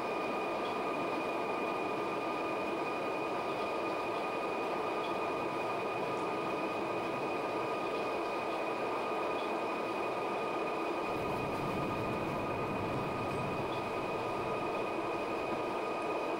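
A London Underground District Line train in the OpenBVE simulator climbs uphill under power, a steady loud broadband rumble of motor and wheels with a constant high whine, the low roar deepening near the end.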